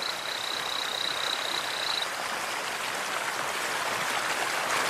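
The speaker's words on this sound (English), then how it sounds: "Like most frogs, he calls out to attract a mate." A male torrent frog calls beside a roaring Brazilian waterfall, a thin, high, steady peep lasting about two seconds and then stopping, almost buried in the loud, constant hiss of falling water.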